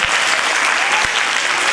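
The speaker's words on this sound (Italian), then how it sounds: "Un altro applauso." Loud, continuous audience applause after a school performance of Cavalleria Rusticana by a comprehensive institute in Brolo, even and sustained with a couple of low thumps.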